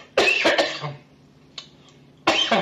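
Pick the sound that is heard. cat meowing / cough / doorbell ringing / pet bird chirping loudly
cough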